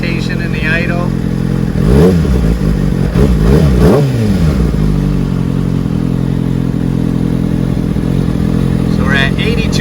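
A 2019–2021 Kawasaki Ninja ZX6R idles close by with an uneven, hesitant rumble, with a couple of blips and wavering pitch around the middle, while someone talks over it.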